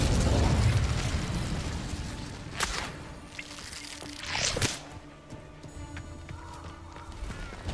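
Incendio fire spell in Hogwarts Legacy: a heavy whooshing burst at the start fades out, followed by a few sharp crackling pops and small clinks, moderately loud then quieter.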